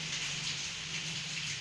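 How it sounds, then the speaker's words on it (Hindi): Heavy rain falls in a steady, dense hiss that holds level throughout, with no voices over it. "ये तो बारिश इतनी तेज हो रही है"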